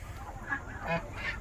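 Domestic geese honking nearby on a farm, with a few separate nasal honks spaced about a third of a second apart over a faint background hiss.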